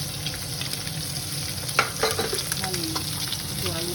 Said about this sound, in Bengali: নুন হলুদ মাখা মাছটাকে একটু ফ্রাই করবো।